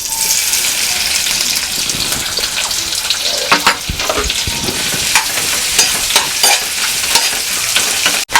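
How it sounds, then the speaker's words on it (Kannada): Onions frying loudly in a pan of oil for egg biryani, a dense continuous sizzle with scattered crackles and a few stirring scrapes close by. "ನಾನೀಗ ಒಂದು ಸ್ವಲ್ಪ ಆನಿಯನ್ ಫ್ರೈ ಮಾಡ್ಕೊತೀನಿ"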